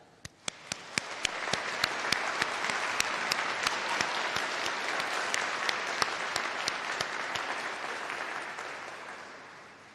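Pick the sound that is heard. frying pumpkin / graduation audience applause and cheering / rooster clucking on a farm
graduation audience applause and cheering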